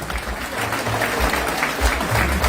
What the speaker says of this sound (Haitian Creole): le public a applaudi le président